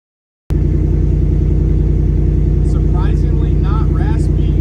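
A Ford F-150 with a 5.0 V8 runs at steady idle through a new Borla ATAK exhaust, a deep, even low rumble that holds constant and fairly loud, while a voice talks briefly over it near the end.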